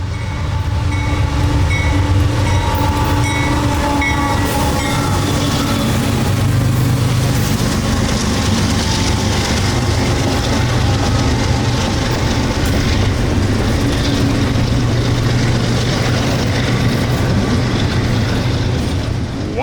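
An overnight freight train rolls past on a model railroad layout, a loud, continuous rumble with rhythmic clickety-clack of wheels on rail joints that stays steady from start to finish, with no voices.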